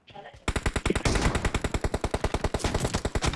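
Rapid automatic gunfire in PUBG, a dense rhythmic burst of about two dozen sharp shots after a brief quiet start, loud and close.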